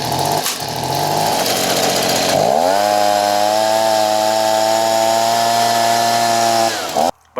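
A warm 2-cycle leaf blower engine that idles but won't rev up is pull-started with a couple of short tugs, then catches and runs at a steady, loud, buzzing idle for several seconds before cutting off abruptly.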